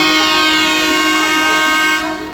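Diesel locomotive horn sounding as a train arrives at a platform, one long sustained, loud blast that fades slightly at the end, with no speech.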